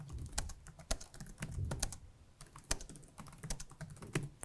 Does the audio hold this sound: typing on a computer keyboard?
yes